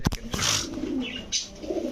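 Pigeons kept for sale, among them teddy, Shahranpuri, golden and Budapest breeds, coo nearby in soft, throaty bursts, with a few sharp flutters and chirps scattered between the calls.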